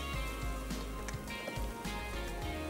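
Boiled chickpeas go into a sizzling green kofta curry in the pan, producing a soft, continuous crackling sizzle dotted with small pops and drips, heard alone without speech.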